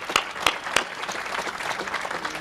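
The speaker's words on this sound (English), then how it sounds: "They deserve a round of applause." Applause from an audience at the first-phase ribbon cutting for Bartlett Station, opening with a few sharp individual claps before settling into a steady, moderately loud wash of clapping that continues without voices.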